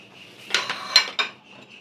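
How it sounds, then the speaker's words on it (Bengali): Chopped grapes spooned into a bowl of thick vermicelli custard dessert, giving three light clinks of a spoon against the dish, close and quiet with no talk. "এবার আস্তে আস্তে এই কুচনো দিয়ে দিলাম আঙুর"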